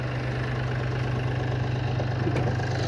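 A 2017 Mahindra Bolero SUV engine idles nearby with a low, steady hum and a constant rhythmic throb, unchanging throughout, with no voices.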